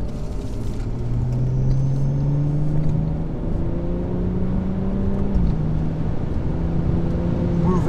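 BMW M240i on Goodyear Eagle F1 Supersport tyres driving down the main straight at Donington Park, with a loud, steady in-car engine drone whose pitch climbs and then drops at a gear change over heavy road rumble.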